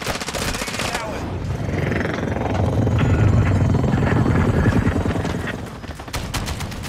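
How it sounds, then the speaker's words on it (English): Chopper gunner helicopter firing in Modern Warfare 2 on a hardpoint match: a steady rotor drone swells under rapid, rattling bursts of gunfire, loud and continuous throughout, easing briefly near the end. "I got a chopper gunner."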